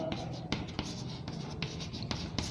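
A marker or chalk writes on a board, producing a continuous scratchy stroking sound broken by regular taps and stroke starts, close and steady, with faint talk in the background.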